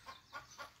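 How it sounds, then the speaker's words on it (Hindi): Hen clucking after laying an egg on a farmhouse property, three short, faint rhythmic clucks in quick succession. "मुर्गी ने शायद अंडा दे दिया और वो शोर मचाना शुरू हो गई है"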